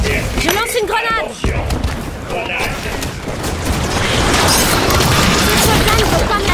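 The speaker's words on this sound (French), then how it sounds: "Je lance une grenade." A grenade goes off amid heavy fighting in a Halo 5: Guardians Warzone Firefight match, a loud rumbling boom within constant gunfire and blasts, with a voice talking over the chaos.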